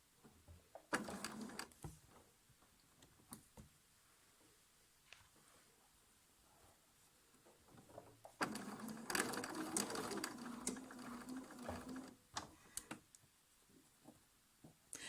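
A sewing machine stitches fabric for a Drunkard's Path quilt block in two bursts, a short one early and a longer steady whir later, separated by quiet ticks and handling noises close by.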